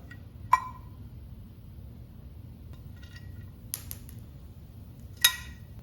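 Bolts being worked loose from the retainer plate of a 1990s two-stroke: a few sparse, faint metallic clicks and clinks spaced seconds apart, with no talking.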